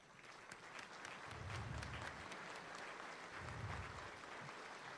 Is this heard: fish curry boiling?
no